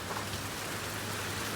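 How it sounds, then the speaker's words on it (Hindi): Steady, dense rain patters down across surfaces in Saharanpur, a constant soft hiss with no voices over it. "सहारनपुर में बारिश आ चुकी है"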